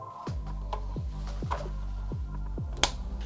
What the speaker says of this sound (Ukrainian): Одразу запрацювали кулери. Ми чуємо, як цей принтер ожив.